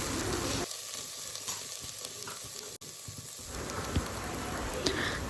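Cauliflower and peas tip into a hot, sizzling pan for pav bhaji, a steady loud fry that briefly quietens, then crackles up again alone with a few sharp pops.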